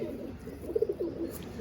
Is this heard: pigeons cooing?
yes